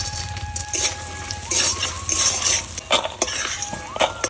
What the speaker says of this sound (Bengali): কড়াইটা বসাই দিলাম, বড়িটা ভাইজে নেই, বড়ি করে ভাইজে নেই,